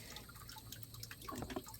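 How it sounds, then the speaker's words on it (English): A small homemade concrete garden fountain with worn paint trickles and splashes in a steady, close, continuous stream outdoors, with no voices. "this is the water fountain I told you I made first"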